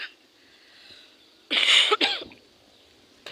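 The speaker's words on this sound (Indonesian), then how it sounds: "Batuk bae guys." Someone coughs twice, close and loud, with a short sharp burst followed quickly by a second rougher one against a quiet background.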